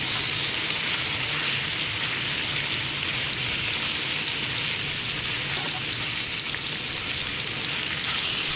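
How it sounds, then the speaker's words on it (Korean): Food fries over a campfire at a campsite, giving a steady, even sizzle with a fine crackling hiss that continues unbroken, with no voices. "튀기네."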